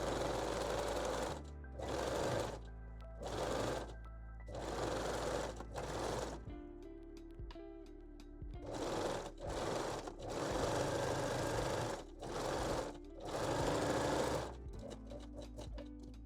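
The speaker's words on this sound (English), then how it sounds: "set your machine to zigzag or 3-step zigzag stitch and finish both" A domestic sewing machine running a zigzag or three-step zigzag stitch to finish the underarm seams of a lingerie bodysuit made from a bra, sounding in repeated short bursts of rapid mechanical whirring separated by pauses, close and alone.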